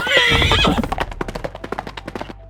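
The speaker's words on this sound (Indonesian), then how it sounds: "Ayo lebih cepat kuda." A horse gives a loud, shrill whinny, followed by a run of quick, rhythmic hoofbeat clip-clops that carry on at a steady gallop pace and fade slightly.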